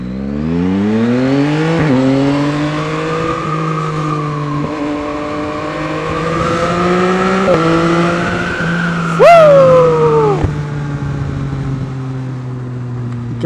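A Yamaha XSR900 motorcycle engine is ridden at night, holding a steady drone with several rising and falling revs, plus a sharp rev spike and gear change near the end, loud and close with no talk.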